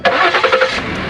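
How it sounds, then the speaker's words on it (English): A car engine cranks and catches after a jump start from a portable dead-battery jump starter, then settles into a steady close mid-pitched run for about a second with no talking. "So I'm going to start the car now,"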